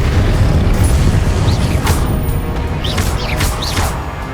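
Blasts of the Confringo explosive spell in Hogwarts Legacy during a boss fight against the Pensieve Guardian in Rackham's Trial, loud rumbling booms with several sharp bursts over a continuous roaring low background.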